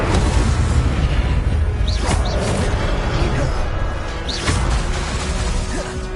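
Incendio fire spell cast in Hogwarts Legacy, bursts of whooshing flame and booming magic effects repeating over a dense, loud game soundscape.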